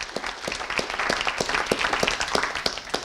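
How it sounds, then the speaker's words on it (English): An audience at a book signing show breaks into a round of applause, dense crowd clapping with a few sharp, louder claps standing out at a steady rhythm, sustained and fairly close throughout. "I want to give them a round of applause."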